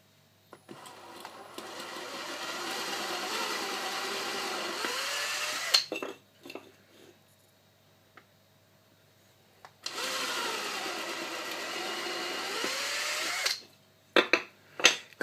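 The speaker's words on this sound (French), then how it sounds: "Pour percer le tasseau, il va être important d'essayer de le faire au maximum perpendiculaire à la planche." A power drill bores a hole through a wooden batten in two long bursts of whining motor noise, separated by a quiet pause and followed by a few short clicks and knocks.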